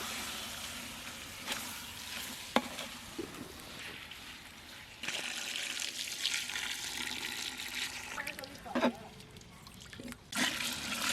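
Water is poured into a large pot of chicken biryani masala being cooked for thirty people, a loud splashing gush near the middle with steady running water and clanks, close, as people talk faintly in the background.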